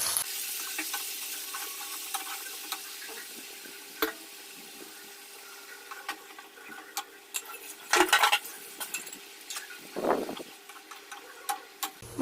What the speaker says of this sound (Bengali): পেঁয়াজ লাল লাল ভাজা হয়ে গেছে, বেটে রাখা মশলা দিয়ে দেবো।